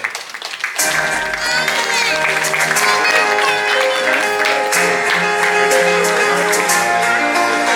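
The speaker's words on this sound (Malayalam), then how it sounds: "ഒരു വലിയ കൈയടി കൊടുക്കാം." Loud, sustained audience applause at a celebrity cricket event in Kerala, with a memento being presented to a singer; dense, steady clapping fills the space without a break, and music plays underneath.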